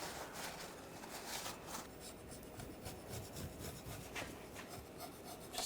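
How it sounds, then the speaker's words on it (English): Scraper rasping corrosion off the transmission pan gasket surface of a 2009-2010 BMW 535i xDrive, a steady close scratching scrape with a quick repeated rhythm, no talk. "Just using a scraper, just getting some of the corrosion off."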